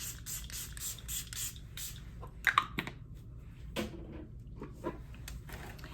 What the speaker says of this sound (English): I'm going to go back in with the Catrice Illuminating Prime and Fine spray again.